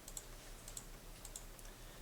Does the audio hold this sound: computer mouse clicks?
yes